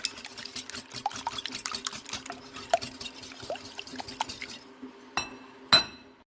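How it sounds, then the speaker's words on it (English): Whisking milk into crepe batter in a glass bowl: a rapid run of light clinks and scraping taps against the glass, steady and close, easing off before a couple of sharper final clinks. "We're just gonna mix it or whisk it until completely combined"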